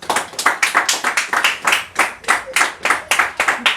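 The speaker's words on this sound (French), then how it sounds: "Laissez-nous applaudir le Saint-Esprit dans la vie de notre Père." A church congregation claps in a steady rhythmic beat, about four claps per second, the sharp hand claps ringing clearly with no talk over them.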